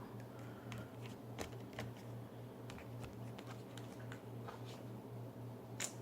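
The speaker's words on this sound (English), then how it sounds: "Let's get the rest of your cards out." Tarot cards shuffled and laid out, a steady soft close-up patter of card riffles and taps with a few sharper clicks, quiet and without talk.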